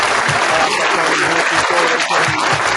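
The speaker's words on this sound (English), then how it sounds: "Give my man a round of applause" A round of applause at a 49ers fans' pregame discussion, dense continuous clapping at close range, with voices talking over it the whole time.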